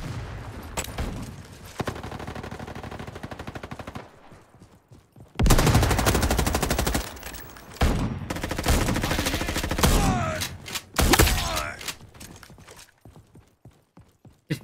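Heavy shotgun blasts and rattling gunfire in the online shooter Frontlines, with several loud bursts separated by mechanical clacks and quieter gaps, no voices over the shots.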